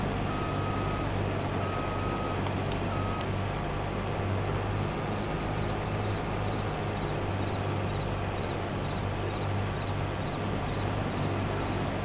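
A vehicle's reversing alarm in Farming Simulator 22 beeps steadily in a repeating rhythm, faint beneath a constant loud engine rumble heard from the machine's cab.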